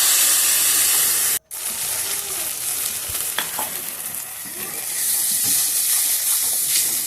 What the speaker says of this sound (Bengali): দিয়ে ভালো করে একটু কষিয়ে নিতে হবে